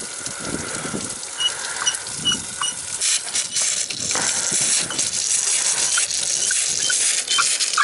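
Water leaking past closed shut-off valves in a small winterized waterfront home being recommissioned, a hissing, gurgling trickle with irregular splashy bursts that grows louder and steadier in the second half.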